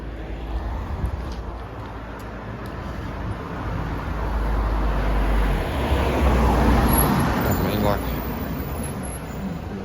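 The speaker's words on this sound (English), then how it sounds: "let this car go past" A car passes on a roadway near a parked van, its tyre and engine noise building gradually to a broad swelling rush and then easing, with a voice talking over it.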